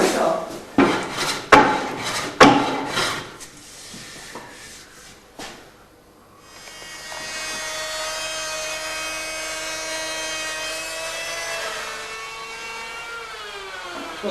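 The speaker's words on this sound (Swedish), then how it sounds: "Under hyvlingen justerar man eventuella skevheter." Hand planing a birch wood ski: several sharp close scraping strokes and knocks at first, then a sustained tonal whine with a falling pitch toward the end, with no voices.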